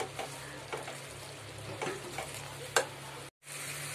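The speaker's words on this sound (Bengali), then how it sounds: "মশলাটা তেল ছাড়া পর্যন্ত আমি অপেক্ষা করব আর ততক্ষণ ভালো করে কষতে থাকবো" A spice paste for a snakehead fish curry fries in oil with a steady low sizzle while a spoon stirs it, giving faint periodic scrapes and one sharper knock, close but quiet, with a brief dropout.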